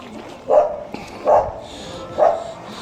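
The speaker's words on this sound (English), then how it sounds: "You see, there's a dog again." A dog barks three times at a steady, evenly spaced pace, each bark clear and moderately close against a quiet outdoor background in a seaside town.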